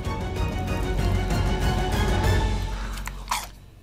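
Crunchy bites and chewing of fried cheese, close-miked in an ASMR style, a dense loud crackling that fades near the end with a sharp crunch.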